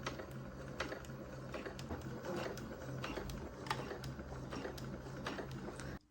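Sewing machine stitching joined pieces of bias tape, a quiet steady mechanical whir with rapid needle ticks, close and soft, stopping abruptly at the end.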